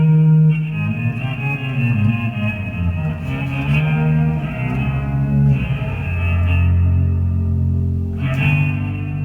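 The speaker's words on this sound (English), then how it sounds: "I usually like to add a little bit of reverb to it," Sustained electric guitar chords through an Electro Harmonix HOG pedal ring out with a wide, washy reverb tail, notes blending and decaying smoothly, with a fresh strum near the end.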